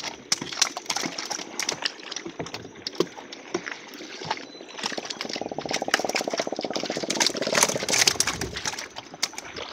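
A motorcycle engine hums steadily in the middle stretch, rising and fading, amid scattered clicks, rustling and faint bird calls outdoors.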